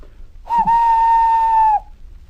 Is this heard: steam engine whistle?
yes